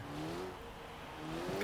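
A 300-horsepower car accelerates in the racing game Forza Horizon 3, its engine note climbing steadily in pitch, loud and close, with no talking over it.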